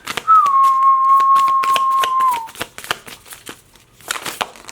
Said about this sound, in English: That was a strong whistle.